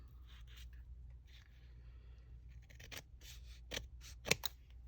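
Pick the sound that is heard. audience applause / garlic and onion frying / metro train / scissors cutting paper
scissors cutting paper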